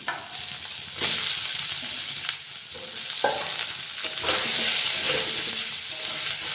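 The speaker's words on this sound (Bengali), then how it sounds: "দেখুন, আলুটা ভাজা হয়ে গেছে" Potatoes sizzle loudly in hot oil while a spatula scrapes and stirs them several times, with short bursts of noise between steady frying.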